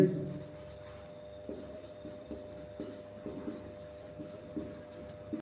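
Chalk or marker writes on a board in a physics lesson on Faraday's laws of electromagnetic induction. Faint, intermittent scratchy strokes tap and rub at an irregular rhythm against a quiet room hum.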